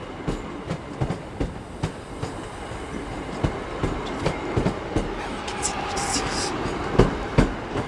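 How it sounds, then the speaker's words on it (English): A Northern class 323 electric train runs past at a station, its wheels giving a steady irregular clatter of rail clicks at moderate distance, with faint voices in the background. "this is the very late running 1036 Northern service"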